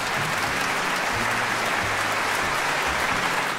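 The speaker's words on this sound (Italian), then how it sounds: "Applausi." Dense, steady applause from a concert audience fills the room after an orchestra's performance of John Cage's 4'33", sustained and loud throughout with no pauses.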